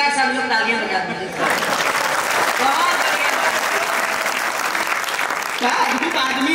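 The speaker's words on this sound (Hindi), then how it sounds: "एक बार सब लोग तालियां बजा दीजिए।" A crowd at a poetry gathering in Paota bursts into loud, sustained applause mid-way, the clapping swelling over a speaker's voice and then giving way to talk again near the end.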